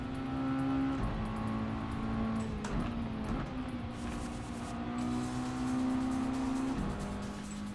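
A race car engine in Gran Turismo 7 drones loudly and continuously, with pitch shifts between gears as it accelerates and lifts off, and faint tire squeal beneath it.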